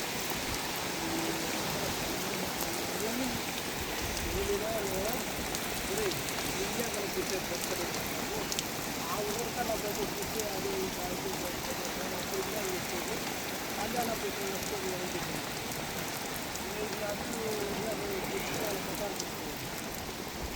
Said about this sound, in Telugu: మామూలు వాన కాదు అప్పుడే వాటర్ సేలల్లో ఫామ్ అయిన ఒక పది నిమిషాలే పడ్డది వాన